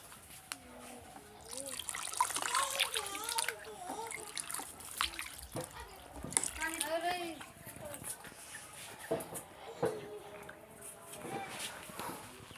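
Hands are lathered and rubbed with soapy water, giving soft splashing and trickling water sounds under steady talk throughout.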